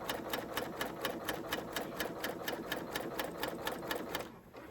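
A sewing machine fitted with a 25mm hemmer foot stitches a hem, running with a fast, even mechanical whir and rhythmic needle clatter before stopping near the end.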